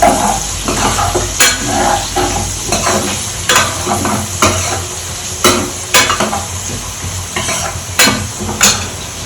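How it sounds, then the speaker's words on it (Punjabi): Tadka tempering for saag sizzles and fries in a pan, with repeated stirring and scraping strokes and occasional clinks of a utensil against the pot, close and steady, with no voices. "ਚਲ ਸਾਗ ਦਾ ਤੜਕਾ ਲੱਗ ਜੇ"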